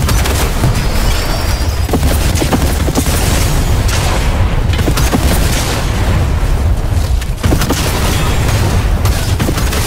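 Continuous loud gunfire and booming explosions during an SMG-only match in an online shooter's arena mode, a dense, unbroken barrage of shots with no clear gaps, close and overwhelming, with no talking.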